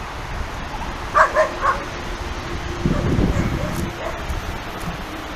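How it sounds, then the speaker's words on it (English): Dogs give a few short barks around a group riding recumbent trikes outdoors, a brief cluster of yips fairly close by, followed by wind and road rustle. "we have to be careful around dogs because it's funny, you know, these trikes don't bother some dogs at all, but other dogs, oh man"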